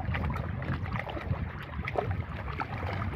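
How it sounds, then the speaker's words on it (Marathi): Water flows gently and continuously, a soft, steady rushing with no voices over it. "पाण्याचा हे मंजूळ आवाज ऐकायला किती छान वाटतं"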